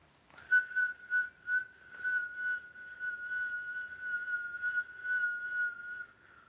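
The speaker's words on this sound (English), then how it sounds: "when you exhale, you're going to whistle." A steady, sustained high whistle held for several seconds, preceded by a few short breathy puffs, close and clear with no talking.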